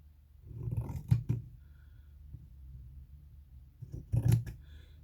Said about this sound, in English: So I get my scissors.